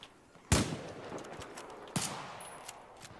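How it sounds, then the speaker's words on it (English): Enemy gunfire in the video game Battlefield 4, two sharp, loud shots about a second and a half apart, each followed by a short decaying tail over quiet game ambience. "I keep hearing him shoot stuff."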